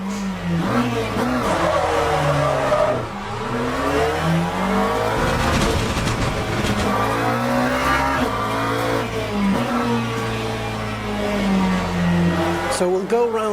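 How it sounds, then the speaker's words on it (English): Sim-racing video game car engine droning loudly and continuously through a lap, its pitch rising and falling with shifts and corners, with faint tyre squeal at times. "just so you can get the idea of the engine sound volume"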